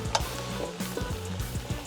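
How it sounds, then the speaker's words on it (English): Vegetables for curry sausages fry in a pan with a bright continuous sizzle, punctuated by a few soft stirring scrapes and taps close by, with no talking. "I like to just quickly fry up those vegetables a bit"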